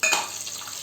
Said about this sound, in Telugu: కొంచెం ఫ్రై అవనిస్తూ ఉండాలి వీటన్నిటిని.